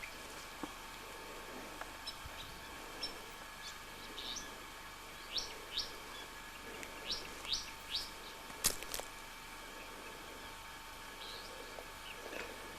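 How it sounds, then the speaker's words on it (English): Scattered short bird chirps and tweets ring out over a quiet, still bushland billabong, some slightly closer than others, with long hushed gaps between calls. "notice how quiet it is, only the birds."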